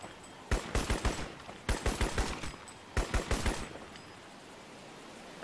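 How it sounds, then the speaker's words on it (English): Automatic gunfire in the video game Crysis comes in three loud, close rapid bursts of several shots each, separated by short pauses, with no talking. "How it works is I shoot the bullets at you and you die."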